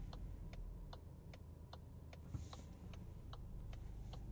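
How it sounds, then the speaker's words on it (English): Regular ticking of the turn signal in a 2023 VW Golf GTI S manual, about two clicks per second, heard over a low steady engine hum inside the car. "It's a good turn signal sound."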